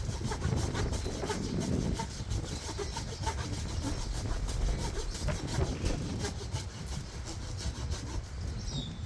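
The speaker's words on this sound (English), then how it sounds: "this is probably about almost 3/4 of an inch trunk that I'm sawing through" A Gerber Exo Mod all-metal pack saw cuts through a small tree trunk about three-quarters of an inch thick, giving a steady, close run of rasping back-and-forth strokes that fill the clip with no talking.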